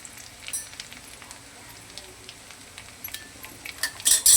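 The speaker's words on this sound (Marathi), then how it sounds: "कडकडीत तेल झाले की त्यात आपण अद्रक टाकायची पहिल्या परत, त्यानंतर जिरं मोहरी टाकायची" Ginger, cumin and mustard seeds fry in very hot oil for a dosa potato filling, giving a steady crackling sizzle with scattered pops that grow louder and sharper near the end.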